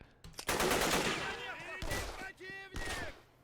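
Gunfire in the Red Rising mod: dense automatic shots rattle continuously with loud cracks and ringing tonal game effects, broken by a few sharp single shots, with voices talking underneath.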